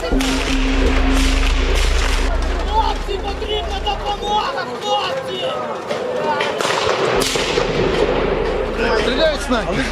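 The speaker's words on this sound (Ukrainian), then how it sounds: "Він стріляє в прохід!" Sharp gunshots crack at intervals amid a tense scene during the Maidan protests in Ukraine, with people shouting and talking loudly throughout.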